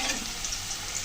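Potatoes frying in a pan for a Bengali fish curry with pointed gourd, a steady soft sizzle throughout with no voices.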